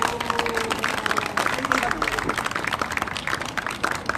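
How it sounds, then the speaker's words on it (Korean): Audience applause at a candlelight rally in Gimcheon, a dense crowd clapping steadily through the whole stretch, loud and close, with some voices mixed in. "다 같이 박수 한번 쳐주십시오."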